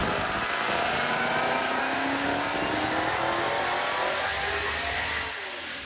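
A Demon-swapped Jeep Trackhawk engine revs hard toward 6,800 rpm, a loud, sustained, close roar whose pitch climbs steadily before easing off slightly at the very end.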